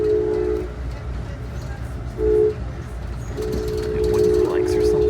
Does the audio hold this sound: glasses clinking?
no